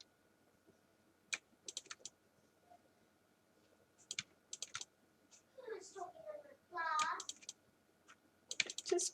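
Computer keyboard Alt presses and mouse clicks during photo editing: a scatter of quiet, quick clicks in short bursts, with a voice talking between them.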